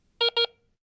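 A Garrett ACE 350 metal detector gives two short, clear electronic beeps in quick succession during a factory reset, alone and close.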